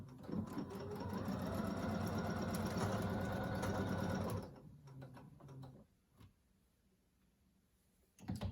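A sewing machine stitches a cloth face mask, whirring steadily and loudly for about four seconds before stopping. A few faint clicks and small handling noises follow in near quiet.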